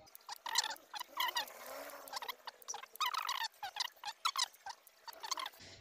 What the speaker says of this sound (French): Bon, là on va gratter.